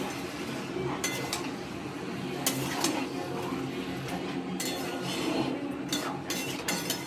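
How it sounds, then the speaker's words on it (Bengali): Chicken meat being stirred in a cooking pot, with light metallic clinks and scrapes of a utensil against the pot repeating at irregular intervals over a steady background. "এবার মাংসটা আমি একটু নেড়ে দেবো"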